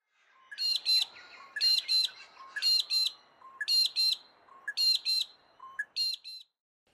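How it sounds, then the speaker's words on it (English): Australian magpie-lark (peewee) pair duetting, one bird starting each phrase and the other answering at once; about six clear, repeated whistled call pairs in steady rhythm, close and fairly loud, with no talk. "say with the peewee, the mudlark, common Australian bird, the male will do the first bit of the call"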